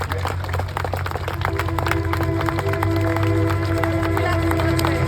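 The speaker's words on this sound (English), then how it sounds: "give them a round of applause as they go around" A crowd at Tankfest applauds British Army armoured vehicle crews as they drive around the arena, scattered clapping and cheering mixed with the low, steady rumble of tracked engines nearby.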